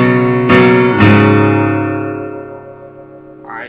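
A guitar riff played slowly: three sharp strummed chords about half a second apart, each left ringing and fading, then a brief scratchy strum at the end.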